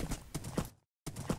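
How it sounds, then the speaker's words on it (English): Horse hooves clip-clop in a quick, close rhythm of a few hollow knocks, pausing briefly before resuming, as a rider goes along in a live-action Minecraft-style animation. "So let's ride the horse and kill."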